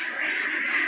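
Ducks quack in a quick, rough burst at close range in the rain on a duck-rearing farm, the calls overlapping briefly with no talk heard.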